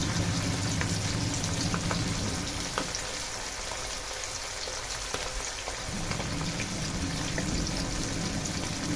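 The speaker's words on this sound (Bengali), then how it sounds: "মিডিয়াম টু হাই হিটে অল্প সময় ভাজলেই খুব দ্রুত মাছটা ভাজা হয়ে যায়।" Hilsa fish frying in a pan on medium-high heat gives a loud, continuous crackling sizzle of oil. The sound dips briefly in the middle, then comes back strong, with no voices.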